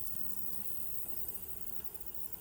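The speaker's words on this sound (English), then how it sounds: "These bees are really packed in here." Honeybees crowd a packed hive opened for a fall inspection in Harnett County, North Carolina, giving off a steady, dense buzzing hum that holds at an even level throughout, with no voices.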